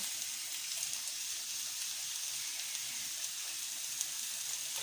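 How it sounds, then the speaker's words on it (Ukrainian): Onion fries in hot oil in a heated pan, a steady, even sizzle with a crackling hiss that runs continuously with no talking. "Цибулька трошечки підсмажиться."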